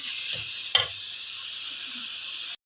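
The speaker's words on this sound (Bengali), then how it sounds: "এই যে দেখুন বন্ধুরা আমি মাংসগুলো কষিয়ে দিচ্ছি" Meat seasoned with halim spices, coriander and cumin powder fries in a pot, giving a steady loud sizzle with one sharp clank of a utensil, then the sound cuts out abruptly.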